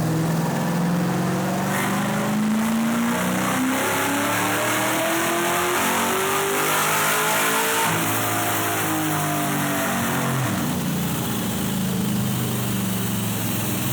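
A Cobra car engine revs hard during a dyno tuning pull, a loud continuous roar whose pitch sweeps steadily upward and then falls back, with no talk over it.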